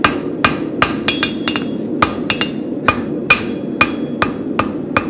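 A blacksmith's hammer rings sharply on a spavin horseshoe at the anvil, a dozen or so loud metallic strikes in uneven clusters of quick blows and short pauses, each one close and bright.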